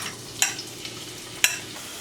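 Onions frying in a pan for baked trout with vegetables, a steady sizzle with two sharp scrapes of a utensil stirring, close and clear with no talking.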